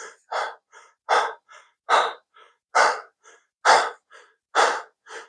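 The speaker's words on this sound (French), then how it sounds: "Vous avez déjà tous pu ressentir votre respiration qui s'accélère et qui devient de plus en plus superficielle quand vous êtes soumis à un stress important." Rapid, shallow stress breathing is voiced by a person as a demonstration: quick, loud, close inhale-exhale pairs repeat in an even rhythm, about one cycle per second, with nothing else heard.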